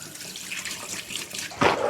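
Running tap water splashes over baby potatoes in a sink, a steady hissing stream that grows louder and fuller near the end as the flow hits the potatoes.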